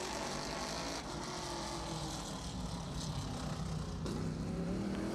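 A NASCAR Whelen Modified race car running on the track at Riverhead Raceway during qualifying, a loud steady engine roar that rises a little near the end, with no talking.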